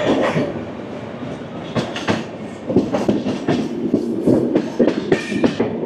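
A train clatters steadily along the line toward Varanasi, with rhythmic clickety-clack wheel beats and rattling carriages, loud and close throughout, with faint squeals near the end.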